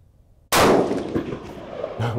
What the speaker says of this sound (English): I may have to stop shooting the rest of the string or the rest of these rounds.